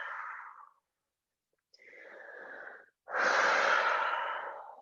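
Deep breaths during a gentle yoga flow: a breathy exhale trailing off, a pause, then a steady inhale and a louder, fuller exhale, all close and without talk.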